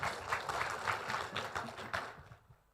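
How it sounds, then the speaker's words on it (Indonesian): An audience at a public gathering with Anies applauds, a faint, distant patter of many hands that rises unevenly and fades out near the end. "Tepuk tangan untuk."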